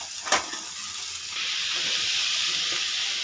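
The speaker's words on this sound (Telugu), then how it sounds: "ఇలా మనం ఫ్రై చేసుకోవడమే." Cabbage, green chilli and carrot frying in a pan, starting with a brief clatter, then swelling into a steady loud hiss and sizzle of steam that continues to the end.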